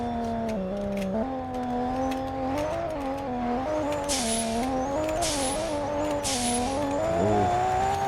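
A tuned Nissan Fairlady Z engine drones close and loud with shifting revs while its tires squeal in several bursts as the car oversteers around bends, with no talking.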